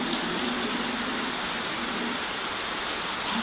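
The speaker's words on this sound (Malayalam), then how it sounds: "നല്ല മഴ." Heavy rain pouring steadily, a dense, even hiss of drops on surfaces with no breaks, close and fairly loud, with no one speaking.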